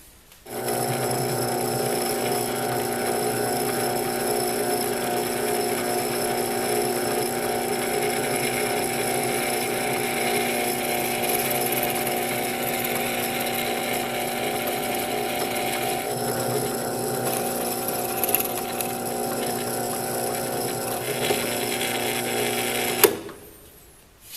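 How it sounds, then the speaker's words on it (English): A power drill whines steadily for a long stretch, drilling holes in wood, loud and close, with a brief clunk as it stops at the end. "so I can drill these end holes"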